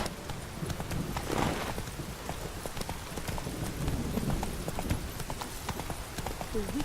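A horse's hooves clip-clop rapidly and evenly in The Witcher 3 video game, close and continuous against a low outdoor rumble, with soft background noise throughout.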